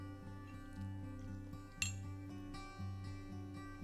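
A utensil clinks against a bowl as salsa is stirred, with light metallic taps scattered over a faint, steady background hum and one sharper clink in the middle.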